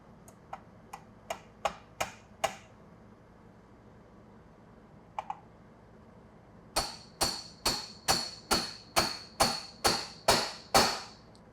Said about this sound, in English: Tap it down into place and you're good to go.